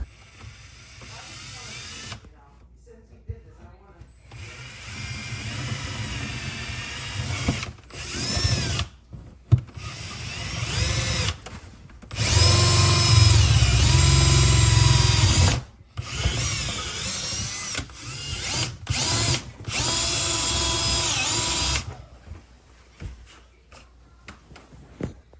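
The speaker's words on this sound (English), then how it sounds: "when you're drilling, just make sure you don't drill through any existing cables" A power drill whirs in several bursts, starting and stopping, with one longer grinding run as it bites through an exterior house wall.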